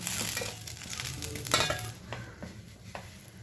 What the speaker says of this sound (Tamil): தேவையான அளவு எண்ணெய் ஊற்றி மறுபடியும் கொஞ்சம் மூடி வச்சுக்கலாம்.